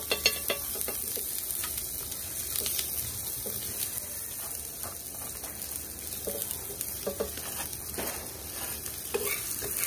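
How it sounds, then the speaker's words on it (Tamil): Pearl millet roti cooking in ghee on a pan, a constant bright sizzle close up with scattered light taps and spits across the whole stretch, no one talking. "இதுக்கு நெய் விட்டு சுட்டுக்கலாம்"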